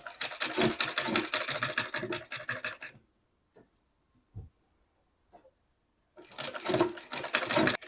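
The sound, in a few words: sewing machine stitching a seam on a suit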